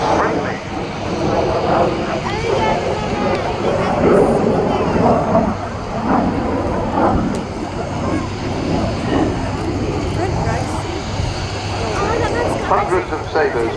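A Sabre jet aircraft flying at an RAF Cosford airshow, its engine roar rumbling steadily throughout while a commentator talks over it on the public address.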